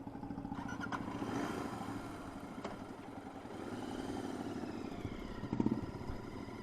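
A motorcycle engine idles and runs steadily up close with a low, rhythmic clattering throb, revving slightly near the end.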